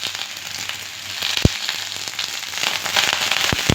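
Garlic, chilli and curry leaves sizzling in hot oil with a little tamarind while making garlic chutney, a close, bright, steady crackling fry with a few sharp pops.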